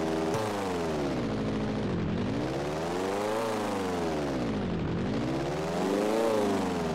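Propeller airplane engine in GTA San Andreas, a loud continuous drone with rising and falling pitch sweeps as the throttle shifts, steady and close throughout.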